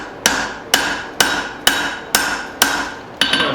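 Seven evenly spaced hammer blows ring out on a steel tomahawk body being forged, each a sharp metallic strike with a short ringing decay, steady rhythm, close and loud with no talking.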